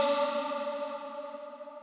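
A single sung word in a pop-punk vocal mix trails off under a very long reverb, the sustained tone decaying smoothly and slowly across nearly two seconds with no other sound.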